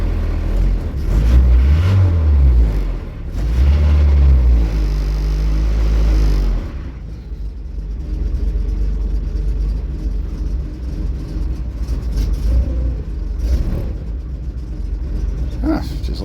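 A Dodge Challenger's Mitsubishi 2.6-litre 4G54 four-cylinder runs with a deep, loud rumble, revving in two swells before settling into a rougher, lower idle; someone speaks over the engine.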